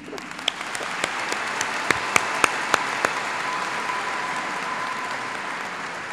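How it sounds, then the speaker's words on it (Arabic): Sparse scattered clapping at a Chaldean church mass for a priest's promotion, a handful of distinct sharp claps over a soft crowd murmur, with a faint sustained tone lingering in the background. "تصفيق لهم"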